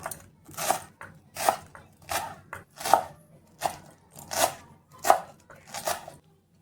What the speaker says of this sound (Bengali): তো এবারে এটাও খুব ভালো করে কুচি করে নেব।